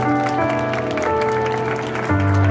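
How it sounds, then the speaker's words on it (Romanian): Wedding guests applaud during a parents' dance at a one-man-show reception, clapping heard under loud sustained music with held tones and a shift in the accompaniment near the end. "aplauze, aplauze, aplauze!"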